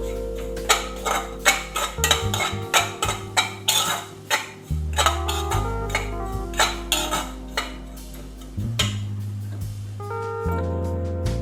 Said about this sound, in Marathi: सुकं खोबरं यात ॲड करूया. छान असं तुपात परतून घेऊया.